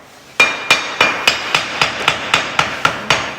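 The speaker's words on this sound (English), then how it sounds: "that protects the fuse as you're hammering it down using a wooden mallet" A wooden mallet hammers a stamper down onto a fuse in a slate mine, eleven sharp, evenly spaced knocks ringing out close and loud with no talking.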